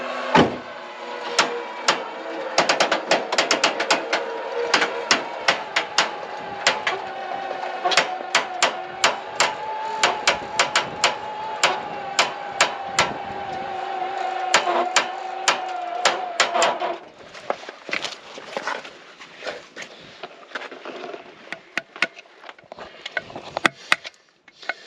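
Repeated sharp hammer blows strike a Jeep wheel that came off on the Hells Revenge trail, a steady fast rhythm of metallic knocks that grows sparser and irregular near the end, close and loud.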